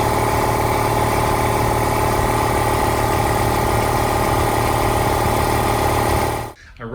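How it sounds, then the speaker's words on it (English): An air compressor supplying a Langmuir Systems CrossFire Pro plasma cutting table runs with a loud, steady mechanical drone and a constant hum, then cuts off abruptly just before the end. "It'll kick on, and then you will actually see the pressure start to build back up and the compressor will turn off."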